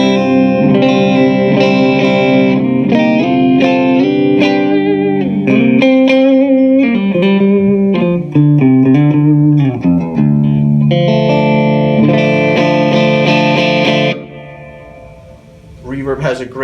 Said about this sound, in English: Reverb has a great trail.